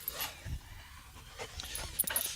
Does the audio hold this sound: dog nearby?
yes